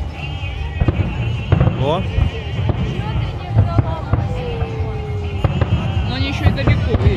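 Fireworks bursting at the Gelendzhik fireworks festival, a run of sharp booms and crackles with whistling rising shells, heard from a distance over a lively crowd while people talk nearby.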